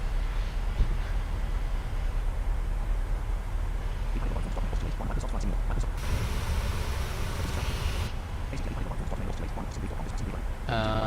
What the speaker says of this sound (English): Oh wow, I can feel those engines have spooled back.